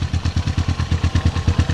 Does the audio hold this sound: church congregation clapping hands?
no